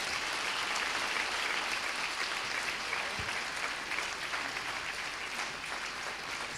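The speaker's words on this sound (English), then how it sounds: "I think they deserve one more round of applause" A conference audience gives a continuous round of applause, an even wash of many hands clapping at moderate, somewhat distant volume with no talking over it.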